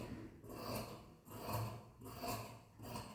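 Blouse fabric being cut with scissors, heard as faint, close, rhythmic rasping strokes, about four evenly spaced snips with short pauses between them.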